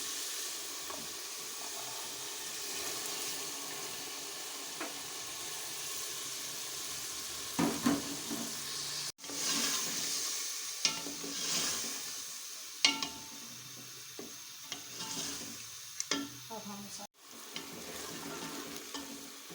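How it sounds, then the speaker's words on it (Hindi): Garlic and spice masala frying in a pan while chana dal is added for lauki chana dal, a continuous sizzle broken by scraping stirs and a few clanks, close by, with no talking. "इस मसाले को इतना भूनना है कि लहसुन की स्मेल ख़त्म हो जाए"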